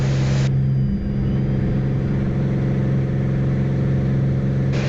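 Beechcraft Bonanza engine running at full power during a missed approach in low instrument conditions, a steady loud droning hum heard from the cockpit, unbroken throughout.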